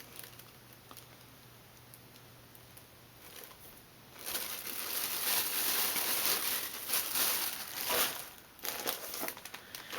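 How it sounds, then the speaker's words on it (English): Plastic bags rustle and crinkle close by, quieter at first and then louder and steady, with no talking. "All of that rustling I'm doing with these plastic bags"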